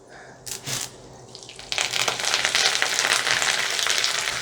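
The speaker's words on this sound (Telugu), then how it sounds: "సో దీంట్లో మనం శనగపప్పు వేసేద్దాం." Chana dal and garlic hit hot oil in a pan for a Telugu gongura pachadi, bursting into a loud, continuous sizzle after a couple of brief scrapes, close and with no talking.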